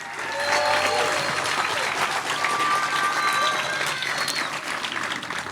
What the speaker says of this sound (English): How about a round of applause for our leaders of today and our leaders of the future right here in front of you.